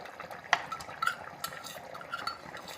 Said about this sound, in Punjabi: ਹੁਣ ਆਪਾਂ ਇਹਦੇ ਵਿੱਚ ਥੋੜੀ ਜਿਹੀ ਮਲਾਈ ਪਾਉਂਦੇ ਹਾਂ ਹਾਂਜੀ ਆਪਾਂ ਪਾ ਰਹੇ ਹਾਂ ਜੀ ਮਲਾਈ